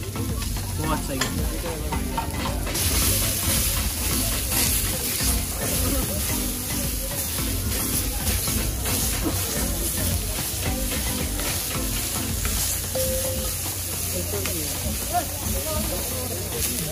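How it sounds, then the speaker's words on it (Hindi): Paneer and kebab mixed and sizzling on a hot griddle at an Indian street food stall in Noida, a steady loud frying hiss with scraping and stirring under busy background noise. "बढ़िया तरीके से इसको मिक्स कर दिए पनीर और अपने कबाब"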